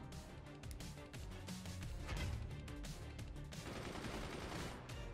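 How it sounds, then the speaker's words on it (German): A machine cannon firing in the video game Forts, shooting down incoming shells in mid-flight: dense, continuous rattling fire that holds steady throughout, fairly quiet and heard alone. "Nutzen Sie Ihre Maschinenkanone, um Granaten im Flug abzuschießen"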